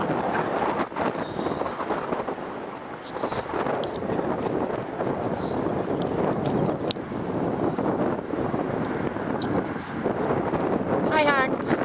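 Heavy wind buffets the microphone with a steady, loud rumbling roar throughout, at a cold outdoor triathlon cycling loop around a university campus, with a few faint voices and brief chirps under it.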